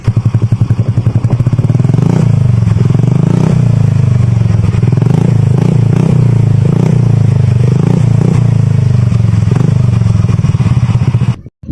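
Yamaha scooter fitted with a full-system exhaust, running without its silencer, a loud, raspy, close engine drone with repeated blips and revs that stays steady for about eleven seconds before cutting off abruptly.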